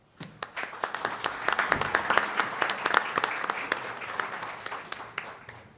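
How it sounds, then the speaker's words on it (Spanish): Audience at an arbitration congress panel applauds the moderator: scattered claps start, quickly swell into steady clapping from a moderately sized crowd, then thin slightly toward the end. "por lo que la recibimos con fuertes aplausos"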